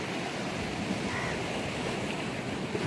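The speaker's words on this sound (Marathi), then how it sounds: "आता भरतीचा टाइम आहे त्यामुळे पाणी ना सटासट भरत चाललाय" Sea waves wash ashore at high tide on a beach, a steady close roar of surf with some wind, no voices.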